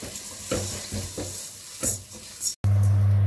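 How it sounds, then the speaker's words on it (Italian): Risotto rice toasting in a pan with browned onion, soft sizzling with several stirring scrapes at regular intervals, ending in a louder, steady sizzle. "La cipolla è ben dorata, passiamo alla cottura del riso. Lasciamo tostare per qualche minuto."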